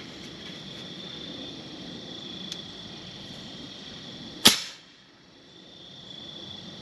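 A single sharp shot from a long-range airgun fires at an egg 500 yards away outdoors. The crack stands out over a steady background hum and then fades quickly.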